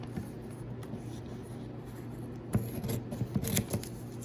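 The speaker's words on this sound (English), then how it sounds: "take your scissors and cut out a strip" Scissors snip through a strip of colored paper in a few quick close crunching cuts, faint and near, following a soft rustle of paper.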